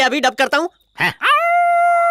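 During a comedic Indian movie scene, someone speaks briefly, then his voice imitates a dog with a rising, sustained howl that holds steady and loud to the end.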